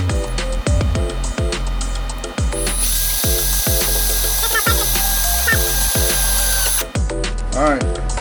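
Hand ratchet driving a 5/16 screw into the driver door latch of a Chevy Blazer, with rapid repeated clicking pawl strokes in close, steady bursts throughout, and a brief pause near the middle.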